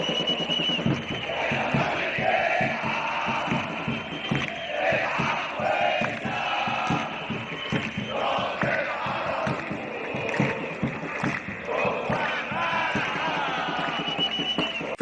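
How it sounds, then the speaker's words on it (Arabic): Zamalek football supporters chant in unison from packed Egyptian stadium stands, a dense roaring crowd chorus with rhythmic clapping running steadily throughout. "هتاف الزملكاويه: يا زمالك العب"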